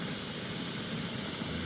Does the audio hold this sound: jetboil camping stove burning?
yes